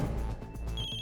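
A phone ringtone chimes in a repeating electronic pattern, moderately quiet, with a higher tone entering near the end.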